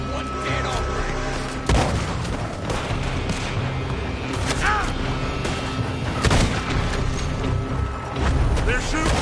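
Gunfire in a wild west video game, scattered shots and a sharp crack among busy background noise and mechanical clatter, mid-distance, with voices shouting throughout.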